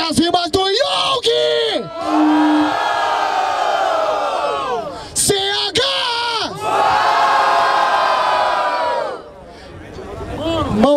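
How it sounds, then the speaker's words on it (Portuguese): A large crowd at a rap battle final in Barueri, Brazil roars and cheers loudly, with whoops and yells swelling in long waves, a brief shouted voice between bursts. "Barulho para as rimas do Yong!"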